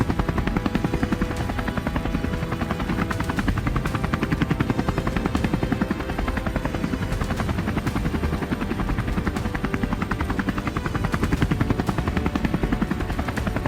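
A helicopter flies over devastated Texas farmland during a wild boar hunt, its rotor chopping in a loud, steady, close rhythm that continues without pause and without any talk.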